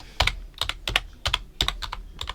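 Rapid, close keystrokes on a computer keyboard as a channel name is typed, a quick uneven run of sharp clicks in small clusters.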